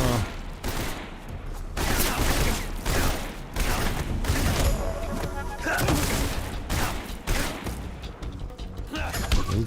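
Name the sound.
gunfire in the video game Metal Gear Solid Delta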